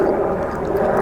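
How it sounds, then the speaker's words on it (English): A helicopter flies over the Lake District fells near Wast Water and Great Gable, making a continuous, fairly loud engine-and-rotor drone. The steady roar barely changes over its short length and no one speaks. "Helicopters are out, hopefully not mountain rescue."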